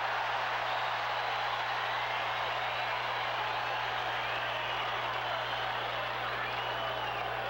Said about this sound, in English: as the fans get clapping for a strikeout